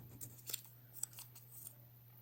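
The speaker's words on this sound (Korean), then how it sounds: "뒷부분은 가위로 자릅니다" Scissors snip through red coloured paper for a paper-folding craft, with several quick, crisp, close cuts in a loose rhythm over a faint steady hum and no talk.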